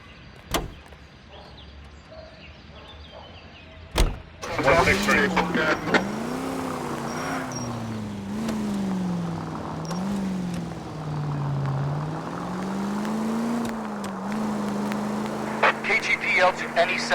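A car is driven in the video game L.A. Noire, starting after a door thunk with a steady engine drone that rises and falls as it shifts and accelerates, under a constant mid-level hum of road noise.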